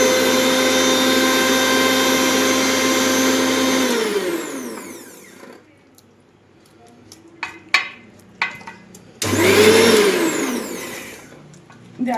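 An electric mixer grinder whirs with a loud steady motor hum, then winds down and stops, followed by a few clinks and knocks before the motor starts again at full strength.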